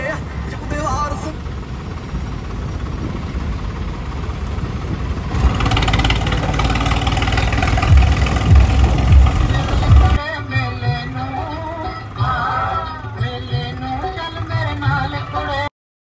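A tractor engine running steadily, a loud low-pitched mechanical drone that continues throughout under a person talking nearby, with changes in the engine sound partway through.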